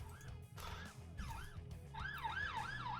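Police sirens wail in repeated rising and falling sweeps, growing steadily louder over a faint background.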